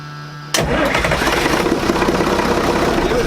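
An engine cranks and fires after a NAPA 3370 fuel filter change, a sharp start about half a second in, then a loud, rough, close idle that keeps running.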